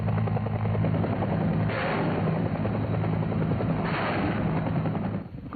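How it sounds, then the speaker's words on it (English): Air Force UH-1 helicopter gunships drone steadily overhead with a pulsing rotor and engine hum, broken by two short, harsh bursts of rapid minigun and rocket fire. "Gunships attempt to suppress enemy fire with miniguns and rockets."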